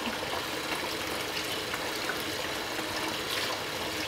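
Water runs steadily over sprouts being rinsed, a continuous, soft close splashing and trickling hiss with no talk.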